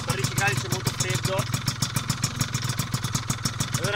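A Zip SP 172 scooter with a Malossi kit, PM exhaust and 35 mm Keihin PWK carburettor idles on a cold day, a steady rapid two-stroke putter with even pulses, close and continuous, while a voice talks over it.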